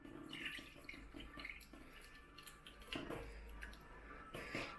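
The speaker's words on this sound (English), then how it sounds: "Now Poppy, I'm going to pour this in and then you're going to use it to collect all the oats." Homemade oat milk is poured through a strainer, a quiet wet splashing and steady trickle with faint drips and light clinks of kitchenware, close and soft, no talking.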